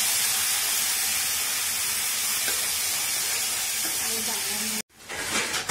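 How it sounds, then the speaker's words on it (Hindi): Spices and tomato frying in a hot pan while being stirred give a loud, steady sizzle with scraping stir sounds, then an abrupt stop followed by quieter kitchen noise. "और ये ऐड कर दिए हैं मसाले, विद टमाटर, उसको थोड़ा हिला लेते हैं।"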